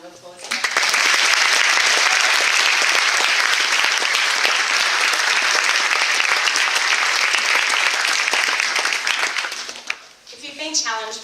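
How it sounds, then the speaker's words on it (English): Audience at a church-held debate event giving a sustained round of applause, dense and loud clapping filling the room for about nine seconds before tapering off, with a voice briefly audible at the end. "give him a round of applause"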